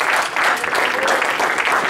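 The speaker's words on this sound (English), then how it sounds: "Give him a hand clap of praise" A church congregation claps in praise during a worship service, a loud, continuous burst of many hands clapping together, steady and close throughout.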